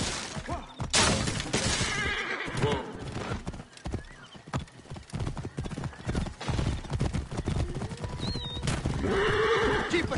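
Horses neigh and whinny amid clip-clopping hooves during a chariot race in the Assassin's Creed Origins video game, with a loud, busy mix of galloping, crashes and shouting voices throughout.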